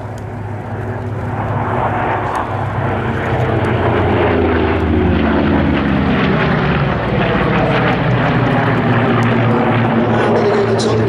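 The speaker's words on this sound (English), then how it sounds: "Beautiful loop being led by the yellow-nosed Corsair" A yellow-nosed Corsair warbird with a three-blade propeller flies a loop at an airshow, its piston engine droning loud and steady throughout, swelling slightly as it climbs and passes overhead.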